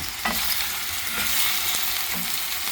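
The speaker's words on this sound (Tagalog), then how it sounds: "Ilagay na natin ang ating pugita, octopus." Octopus sautés in a pan with garlic and onion, a steady close sizzle broken by a few stirring scrapes, alone without voices.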